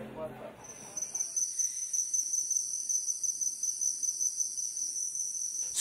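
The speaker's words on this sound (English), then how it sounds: "Stop and listen to the sound of the rainforest" Tropical rainforest at the edge of a town, filled with a steady, piercing drone of insects like cicadas or crickets that holds throughout, with a brief low murmur at the start.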